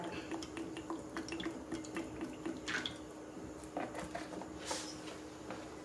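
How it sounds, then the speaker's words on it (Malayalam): Sesame oil poured into a pan for Kerala-style garlic pickle, heard as a faint, quiet trickle with scattered soft drips and light clicks over several seconds. "അങ്ങനെ നമുക്ക് എള്ളെണ്ണ ഒഴിക്കാം"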